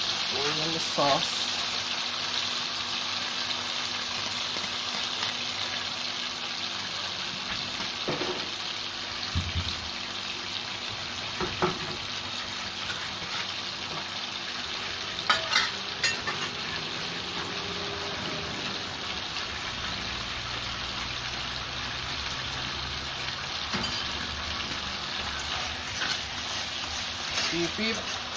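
A steady sizzle and bubbling from sauce in a frying pan with mackerel runs throughout, with occasional clinks and a voice talking intermittently in the background.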